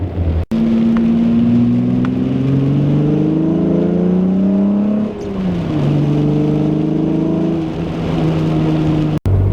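A car fitted with Autotech 262 cams drives along, its engine climbing and shifting through gears in repeated rising sweeps with a steady mid-pitched drone, close and fairly loud.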